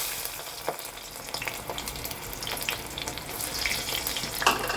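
Sliced onion hitting hot mustard oil in a cooker for Lucknow boti kabab, a bright continuous sizzle with sharp crackles and pops, close and steady with a few louder bursts.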